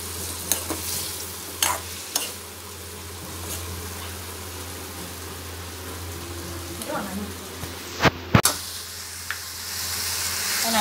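Potatoes fry and sizzle in a pan for potato manchurian, with a steady sizzle under repeated stirring and scraping, a few sharp clinks of the spoon against the pan, and a person talking.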